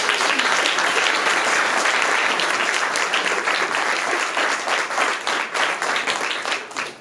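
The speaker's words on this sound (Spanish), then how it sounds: "Vamos a dar un aplauso." Guests applaud at a church wedding ceremony right after the vows, a loud, sustained round of clapping from the congregation that starts thick and thins slightly toward the end.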